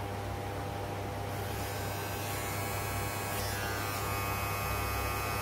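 An electric hair trimmer runs continuously with a steady, close electric hum and buzz throughout, with no speech.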